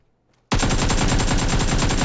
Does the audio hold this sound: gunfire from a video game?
yes